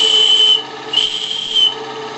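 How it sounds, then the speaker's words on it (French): A steam whistle on a workshop boiler blows a steady, piercing high tone over hissing steam, loud and close, dipping briefly and then sounding again in two more short bursts. "j'ai installé un sifflet sur ma chaudière d'atelier"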